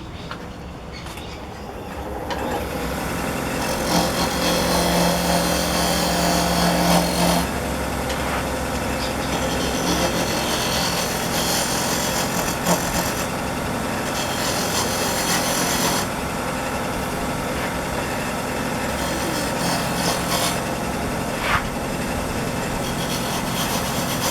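A sphere spins on a wood lathe as a tool cuts it, giving a steady, loud rasping scrape over a constant motor hum. The sound holds with little break for the whole stretch.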